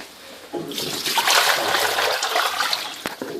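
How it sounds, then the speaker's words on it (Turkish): Muddy water is poured out of a part of a Vaillant combi boiler during cleaning, a close gushing splash that runs steadily for about two seconds and then trails off into drips. "Çamurlu su nasıl çıkarmış en azından bir görülsün."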